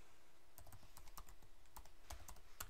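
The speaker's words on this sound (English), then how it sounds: "So just type here administrator" Typing on a computer keyboard, a quick, uneven series of light clicky keystrokes close by, with short pauses between bursts, set against a quiet room hum.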